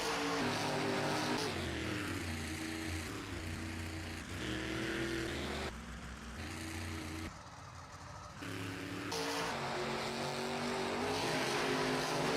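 Monster trucks roaring and revving through a dual freestyle run at Bridgeport Speedway, loud engines surging and dipping continuously with a brief quieter lull midway, no talk over them.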